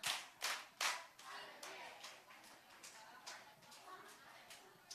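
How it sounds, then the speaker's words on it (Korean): A group of children claps in unison, three sharp claps at the start, followed by fainter, looser scattered claps in a room during a children's church service. "박수 세 번 시작."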